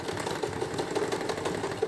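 A sewing machine running a short backstitch on a child's Bermuda shorts, a rapid, even mechanical whirring that fills the brief moment up close with no talk.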